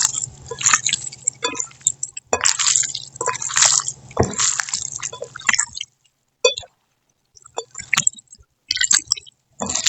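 Wet, squelching squishes and drips as ingredients are kneaded by hand with ginger-garlic paste, coming in irregular close bursts with short silent gaps.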